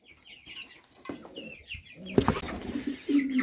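Ordinary village chickens cluck softly nearby in scattered bursts while drinking from waterers, with quiet rustling and a few louder squawks toward the end.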